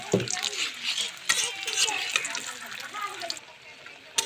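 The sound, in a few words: wheat flour biscuits frying in oil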